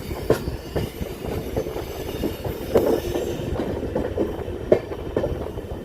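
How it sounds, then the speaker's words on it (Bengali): The Kolkata–Sairang Express passenger train runs on rails with a steady, close rumble, broken by rhythmic wheel clicks and clacks over track joints, and no voices. "আবার ট্রেনটা কিরম যাচ্ছে দেখো"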